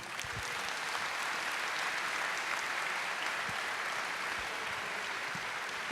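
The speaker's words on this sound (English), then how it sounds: "Give a round of applause to Leonard and Brian." Steady, dense applause from a sizable audience at an environment art panel, sustained at an even level from start to finish with no talking.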